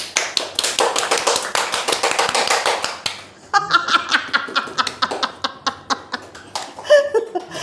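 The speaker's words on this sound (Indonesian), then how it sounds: "Tepuk tangan." A group applauds during a chat with a badminton coach, a dense burst of rapid clapping that breaks off, then sparser claps mixed with chuckles and laughter.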